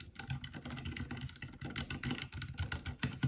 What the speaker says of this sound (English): That was a little bit of sound test of Cherry MX Red silent switches